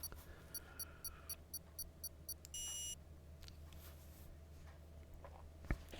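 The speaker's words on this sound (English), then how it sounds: "You could hear the countdown timer beep thing going off right there" A countdown timer in a PC Formula One racing game, set at the Brazil round, gives a series of short, evenly spaced beeps followed by a longer held tone, over a steady background hum.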